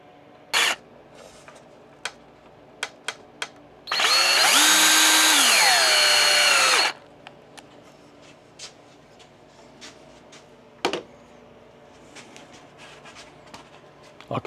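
A power drill drives screws into a cedar garden obelisk in one loud three-second burst, pitch dipping as the screw seats, with scattered light taps and handling knocks around it.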